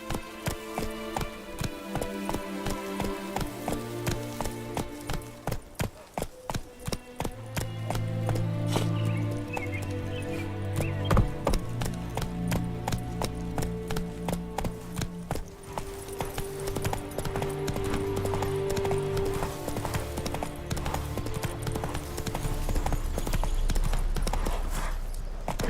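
Roach the horse galloping in the video game The Witcher 3, a rapid rhythmic hoofbeat clatter running throughout, mixed with game music and ambience, with occasional speech and a brief whinny.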